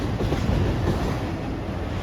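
Train arriving at a railfanning spot in Erlanger, a heavy rumble with wheels clacking on the rails, steady and fairly close for the whole stretch.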